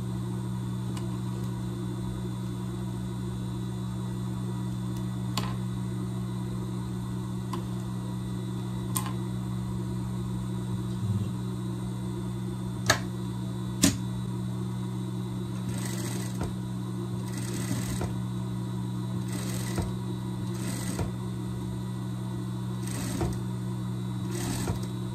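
Steady motor hum of a sewing machine stitching the hem of a pet dress skirt, a continuous drone running throughout, with a few faint ticks and a rhythmic patter of light pulses toward the end.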